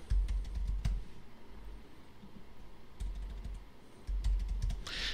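Keys click steadily on a 2015 MacBook keyboard, a run of quick light taps close by, with brief pauses and a few louder presses, and no talking.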